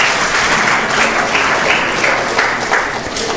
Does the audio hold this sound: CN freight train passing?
no